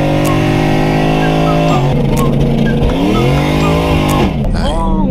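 A 1,000 hp single-turbo Ford Mustang engine on a night street pull, loud and close throughout with sustained rising and falling revs and turbo whine, voices talking over it.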